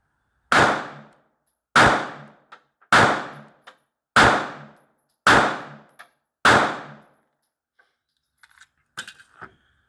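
A Taurus GX4 pistol fires six sharp, loud shots at an even pace of roughly one per second. Each shot ends in a short ringing tail and a faint clink of brass. A few smaller metallic clatters follow after the shots stop.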